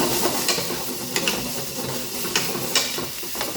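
Thinly sliced mushrooms sauté in a pan for a marsala dish, a close steady sizzle and hiss broken by several quick scraping stirs of a spoon, with no talking.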